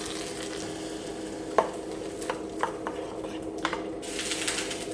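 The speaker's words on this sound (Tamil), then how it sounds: "கடுகு, உளுந்து, காஞ்ச மிளகாய், கருவேப்பிலை இப்போ சட்னியில் போட்டுக்கலாம்." Mustard seeds, urad dal, dried red chillies and curry leaves fry in sesame oil as a tempering for coconut chutney. A soft, steady sizzle runs throughout, broken by a few sharp pops and light stirring clicks.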